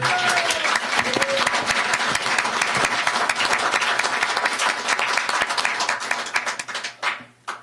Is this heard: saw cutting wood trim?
no